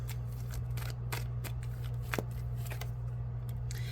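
Tarot cards are shuffled and drawn close by, a run of crisp papery flicks and slides over a steady low hum, with no talk.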